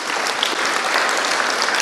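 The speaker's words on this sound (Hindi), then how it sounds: "भाई के लिए जोर से तालियां" Applause from a church congregation during a Hindi Christian program, a steady dense wash of many hands clapping at once, sustained and even throughout with no voices standing out.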